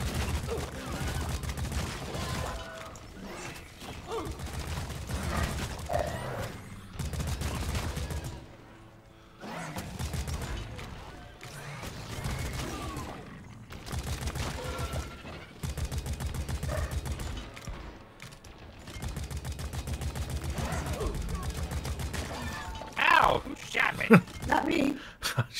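Rapid gunfire in the sci-fi co-op shooter Deep Rock Galactic, dense bursts and fusillades near and loud that stop and start in long stretches, mixed with other game effects while players talk over it.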